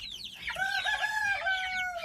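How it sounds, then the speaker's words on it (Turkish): A Brakel rooster crows once nearby, a long drawn-out cry rising and holding before trailing off, over faint background clucking from other chickens. "Evet şurada bir tane brakel horozumuz var."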